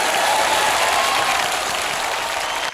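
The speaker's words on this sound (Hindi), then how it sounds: "भारती और करण के लिए जोरदार तालियां हो जाए" A dense, loud wash of studio audience applause for Bharti and Karan on a Hindi comedy show, sustained evenly throughout and tapering only at the very end, with no voices over it.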